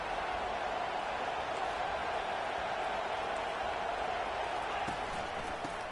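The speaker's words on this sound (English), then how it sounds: "Now the crowd responding in the red zone, trying to help this defense." Video-game stadium crowd at a college football game, Alabama Crimson Tide, roaring steadily through a red-zone defensive stand; dense, continuous wash of cheering and noise with no pauses, fairly distant and even in level.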